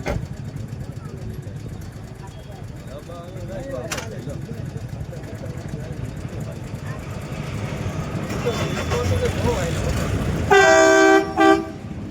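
A passenger train rolls past at a station in Talala Gir, a steady rumbling build followed by a loud horn blast near the end, with people talking nearby.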